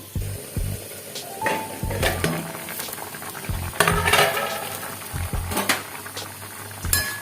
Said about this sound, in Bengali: এইভাবে আমি লবণ হলুদ দিয়ে সেদ্ধ বসিয়ে দেবো